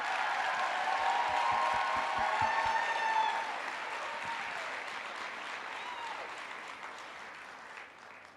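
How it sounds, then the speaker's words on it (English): Audience applause at a talk on copaiba and CBD oil, a dense, even round of clapping that holds for a few seconds and then gradually tapers off. "Let's give them a round of applause for all of their efforts"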